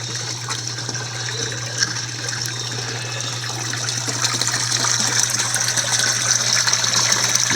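Water drains steadily from DIY aquaponics grow beds, a continuous close gushing, trickling wash that holds even and swells slightly toward the end, with no voices.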